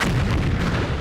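A tank cannon fires in a snowy field after a reload, a single loud, close blast with a rolling boom filling the whole moment.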